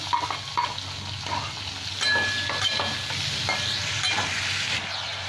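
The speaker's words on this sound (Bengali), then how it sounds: "এই পটল ভাজার তেলের মধ্যে চিংড়ি মাছটা আমি ভেজে নিই।" Shrimp seasoned with salt and turmeric fry in the oil left from frying pointed gourd, giving a steady close sizzle broken by scraping stirs and a few metallic pan knocks, with no talking.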